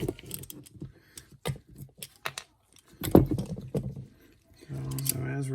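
Metallic clicks and scrapes come in short irregular bursts as screws are backed out of a TPI fuel pressure regulator on a fuel rail, close up, mixed with brief quiet speech.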